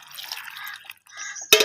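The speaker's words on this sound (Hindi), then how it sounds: "थोड़ा सा पानी ऐड कर देंगे," A small amount of water is poured into a kadhi spice paste, making a soft liquid splash and trickle that ends in a brief louder pour; no one talks.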